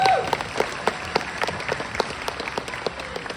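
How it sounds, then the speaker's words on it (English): An audience at the MEFCC 2024 convention talk with James and Oliver Phelps applauds loudly, the dense clapping thinning to scattered individual claps over a few seconds. "After that really, really cheerful round of applause"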